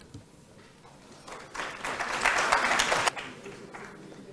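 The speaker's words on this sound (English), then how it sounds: "Can we keep the applause going, guys?" At a lamp lighting ceremony during a student conclave, scattered claps swell into a short burst of audience applause, then thin out to a few claps, heard from moderately far.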